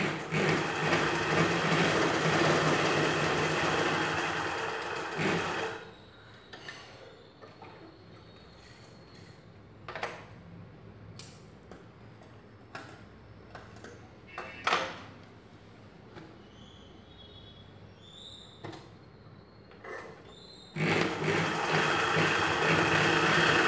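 A sewing machine runs steadily while stitching a Punjabi salwar dress, whirring loudly for several seconds, falling into quieter clicks and taps, then starting up again near the end.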